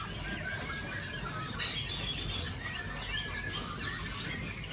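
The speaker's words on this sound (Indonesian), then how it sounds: "Burung sudah mulai rajin bunyi ya bosku ya." A caged songbird at a bird shop sings faint, scattered chirps and short warbles over a steady background hiss.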